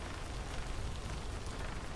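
Video game rain falls in a dense, continuous patter and hiss, close and steady, with no voices over it.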